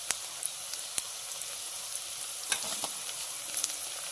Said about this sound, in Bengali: এবারে বাটা আদা রসুন আর শুকনো লঙ্কা বাটাটা দিয়ে দেব